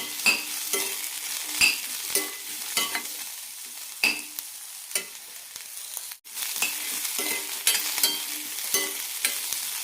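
Gooseberry being sautéed with tamarind and grated coconut for chutney, an irregular series of close spatula scrapes and clatters against the pan over a low sizzle, with a brief sharp knock midway and no talking.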